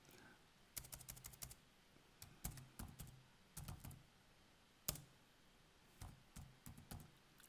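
Typing on a computer keyboard, with quiet close key clicks arriving in short bursts and small clusters separated by brief pauses, no voices.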